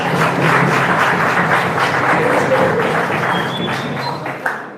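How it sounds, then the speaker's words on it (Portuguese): Applause rises from an audience at a church sermon, a dense, loud clapping wash that continues for a few seconds and tapers slightly, ending with a single sharp thump. "Vamos dar um lindo aplauso"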